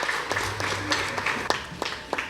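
Audience at a Nigerian secondary school debate gives a student a brief round of scattered applause, individual claps standing out over a soft, diffuse crowd background.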